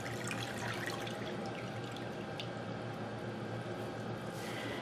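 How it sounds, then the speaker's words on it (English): Water wrung and squeezed from a wet superwash wool sweater knit in the round, giving a steady close wet squish with faint dripping throughout, no voices. "So I'm just squeezing some of the excess water out."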